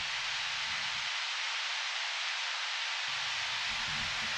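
Dry synthesized white noise with delay and reverb switched off, a steady broadband hiss held at an even level throughout, with a low rumble dropping out briefly in the middle.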